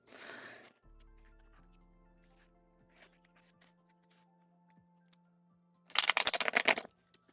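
Tarot cards are shuffled by hand in a quiet room, giving a short, dense burst of riffling and flicking near the end, preceded by faint soft handling noises.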